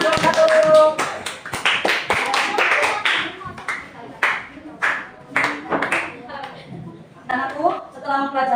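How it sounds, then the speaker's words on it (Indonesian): Hands clapping in a classroom lesson, a burst of sharp claps early on mixed with overlapping voices talking and calling out. "Tepuk tangan."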